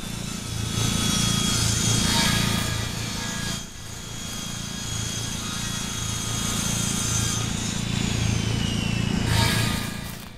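Wood is sawn in the farming game Ranch Simulator, a steady rasping, grinding cut running nearly the whole time with brief pauses, loud and close with no talk.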